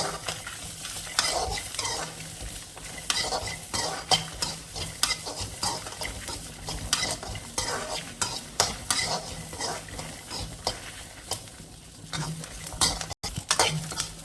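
Dried chillies, onion and garlic sautéing in a pan, a soft sizzle under repeated scraping strokes of a spoon against the pan in an uneven rhythm, close by and fairly quiet.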